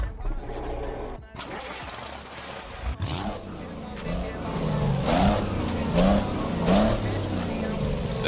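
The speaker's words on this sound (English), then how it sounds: "That's what my truck sounds like" A truck engine in American Truck Simulator rumbles and revs with rising roars and air-brake hisses, fairly loud and close, with some talk over it.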